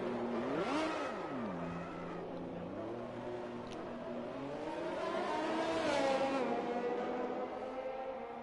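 A Formula racing car drifts in an F1 video game at the Mexico circuit, its engine note rising and falling in revving sweeps. The sound is steady and moderately faint, with no clear speech.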